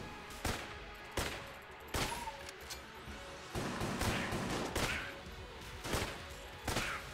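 Rapid bursts of M1 rifle fire in the video game Enter the Gungeon crack out in sharp, evenly spaced shots, roughly every half second to second, over a busy background of game sound effects.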